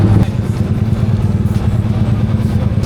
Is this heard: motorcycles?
yes